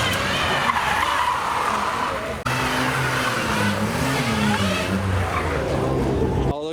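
A Volkswagen spins reverse donuts at a car meet, its tires skidding and squealing continuously over a droning engine. The noise is loud and sustained, with one brief dip partway through.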